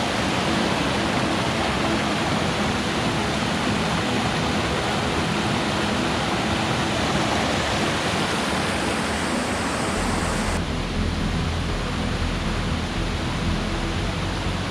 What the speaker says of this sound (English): behind me it takes you to Small Falls, which is one of the first really fun features on the trail here